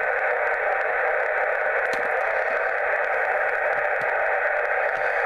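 Steady hiss of static on the 20-meter band from a radio receiver powered by a Jaycar power supply, a constant rushing noise with faint crackles and no voices.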